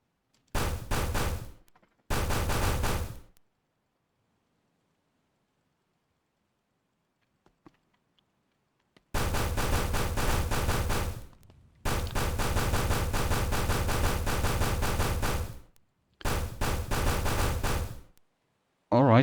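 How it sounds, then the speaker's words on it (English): Sharp, rapid hammer blows pound dents out of a BMW E36 roof in a home garage, loud metallic bursts in several runs separated by quiet pauses. "I want to try and bang that roof a little bit straight"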